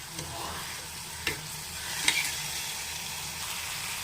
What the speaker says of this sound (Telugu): ఉల్లిపాయలు, టమాటాలు, అల్లం వెల్లుల్లి కొంచెం వేగినాయండి నూనెలో బాగానే.